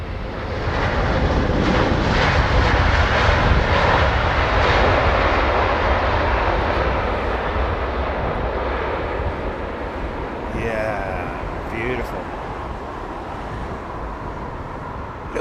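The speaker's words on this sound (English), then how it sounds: "little bit of thrust reverser there" A British Airways airliner landing at Heathrow roars with thrust reverser, a loud sustained jet rumble heard from a distance that slowly fades, with voices talking faintly beneath it.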